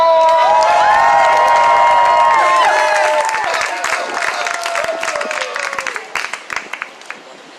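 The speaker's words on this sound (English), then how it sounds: "Can y'all clap it up for Psycho?" Crowd at an abolition march in New York City breaks into loud clapping, cheering and whoops, with shrill whistles or shouted calls at the start, tapering off to scattered claps and voices.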